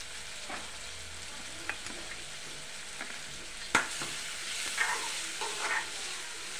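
Tomato chutney sizzles steadily in a pan in a home kitchen, with occasional sharp scrapes and taps as it is stirred, and no voices.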